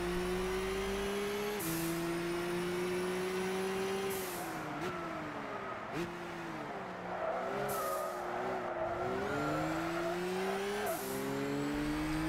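Racing car engines from the video game Gran Turismo 6 drone continuously, pitch rising and falling with gear shifts, with brief tire squeals and whooshes as cars pass.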